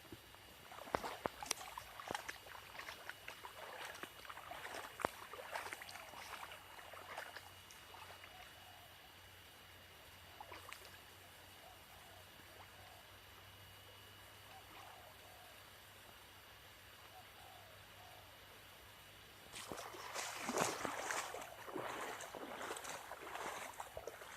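Fast-flowing floodwater runs through a stream beside a Thai mango and custard-apple orchard, a steady broadband rush and gurgle that swells louder near the end, with scattered splashes and clicks throughout.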